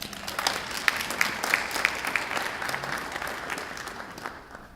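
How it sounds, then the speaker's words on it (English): Audience applause at a Rotary club meeting, a steady roomful of clapping with a few sharper claps standing out, fading away toward the end. "Let's give him a round of applause."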